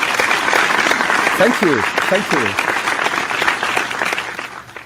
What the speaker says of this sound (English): I never got applause after saying something